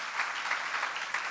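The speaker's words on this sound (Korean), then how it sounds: "박수를 하나 주세요." Audience applause at a church Bible seminar lecture, a steady wash of many hands clapping at moderate level, filling the whole moment without speech over it.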